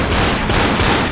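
Rapid, dense gunfire from the Left 4 Dead video game, a continuous burst of loud automatic shots filling the whole moment with little pause.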